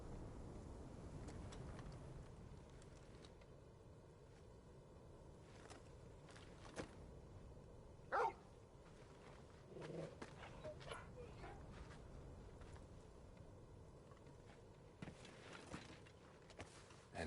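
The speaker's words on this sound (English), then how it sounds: "And who's this fine hound I see before me?" Torgal, a hound in the Final Fantasy XVI video game, barks and whimpers in short bursts over steady game ambience, with one sharper yelp partway through.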